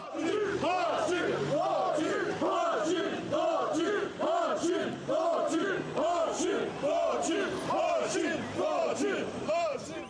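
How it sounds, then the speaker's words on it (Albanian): A large street crowd chants and cheers continuously for Hashim Thaçi, with rhythmic massed voices rising and falling in repeated waves, loud and dense throughout. "bashkë me to, thirrje e brohoritma pa pushuar për të"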